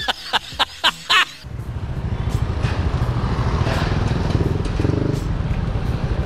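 A few sharp clicks and knocks, then a Yamaha Aerox 155 VVA scooter engine drones steadily during a test ride in Bogor, with continuous road and wind rumble.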